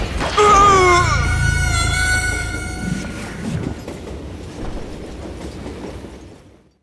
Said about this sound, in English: It was definitely safer on the inside of the train.